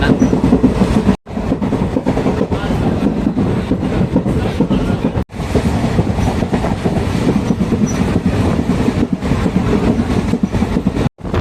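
Steady rumbling rattle from inside a moving Madurai–Sengottai passenger express train, wheels clattering on the rails with a few brief dropouts.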